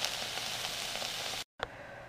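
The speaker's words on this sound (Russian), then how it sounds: "Следующую партию я жарила на другой сковороде" Burger patties sizzle and fry steadily in a pan on paper for frying with a Maggi burger mix, a loud continuous crackle that cuts out briefly and then resumes.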